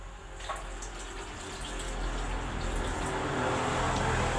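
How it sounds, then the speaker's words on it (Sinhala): Steady stream of water pouring into banana peel fertilizer mixture in a container, rising gradually in level, continuous and close, with no voices. "ඊට පස්සේ අපිට අවශ්‍ය පරිදි වතුර එක් කරන්න ඕනේ."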